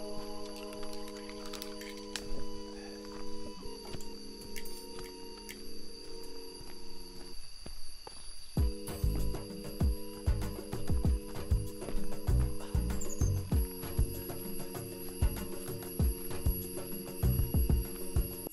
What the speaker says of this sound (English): Sounds like a building alarm, but it's actually bugs.